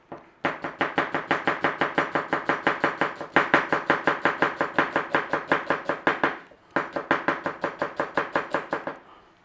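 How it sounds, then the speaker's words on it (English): A knife slices through a red onion on a board, giving a fast, even run of crisp close chops that pauses twice before carrying on. "It's a red onion. And we want some slices."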